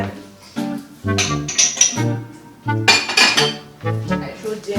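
Dishes, pots and cutlery knock and clink against each other in repeated bursts as they are washed by hand in fresh water, close and fairly loud, with a voice speaking briefly in between.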